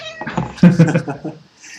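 A pet cat meows indoors, a few short, close cries mixed with a voice in the room.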